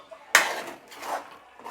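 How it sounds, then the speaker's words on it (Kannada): A plate set down as a lid over a pan of paneer butter masala gives one sharp metallic clatter, followed by softer scraping and a faint knock. "ಇದನ್ನು 1-2 ಮಿನಿಟ್ಸ್ ಪ್ಲೇಟ್ ಮುಚ್ಚಿ"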